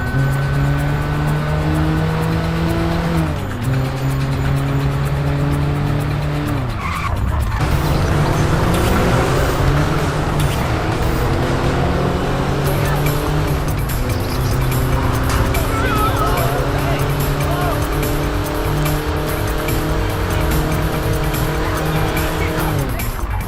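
Race cars in an original Xbox racing game roar continuously, with engine pitch climbing and dropping through gear shifts and tire squeals layered over the drone, loud and steady throughout.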